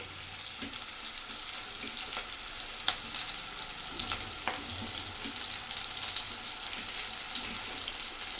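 Green chillies fry with softened onions in a pan, making a steady, fairly quiet sizzle with scattered faint crackles and occasional light stirring clicks.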